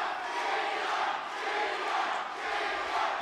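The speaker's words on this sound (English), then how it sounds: "The crowd's chanting El Chino right now" A boxing arena crowd chants a fighter's nickname during a bout, a loud massed roar of voices that swells and dips in a rough rhythmic pattern for about three seconds.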